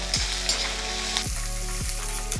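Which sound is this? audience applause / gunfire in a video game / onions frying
onions frying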